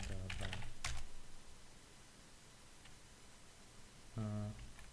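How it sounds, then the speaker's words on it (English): Quick bursts of clicking keystrokes on a computer keyboard, close and crisp, in a busy run at the start and again near the end, with a quiet pause between and faint room hiss throughout. "Yeah, my typing is just unacceptable"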